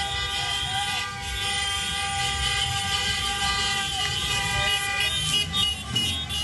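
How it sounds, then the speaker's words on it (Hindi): Car horns sound in sustained, overlapping blasts during a nighttime street celebration in Gaza, with engine and crowd noise rumbling underneath. "कार के हॉर्न बजाकर जश्न मनाया जा रहा है"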